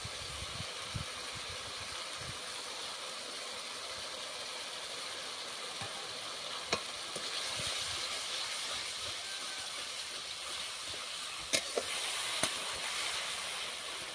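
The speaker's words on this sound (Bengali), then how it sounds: "মশলাটাকে ভালোভাবে কষাতে থাকবে" Cumin powder, coriander powder and curd masala sautéing for a wedding-style rohu kalia, a steady broad hiss of frying throughout with a few sharp clicks and scrapes near the end, no voices.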